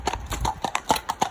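Horse hooves clip-clop in a steady, close rhythm of sharp, distinct strikes, alone with no talk, at an eventing yard.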